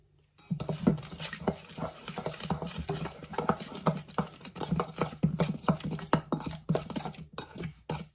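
Soy sauce and cooking oil are whisked into a marinade in a bowl, giving a close, steady run of quick clinking and sloshing scrapes for several seconds.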